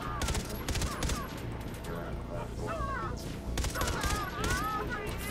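Gunfire rattles through a session of Far Cry 3 Blood Dragon, repeated shots in clustered bursts layered with game effects and music, while someone talks over the action.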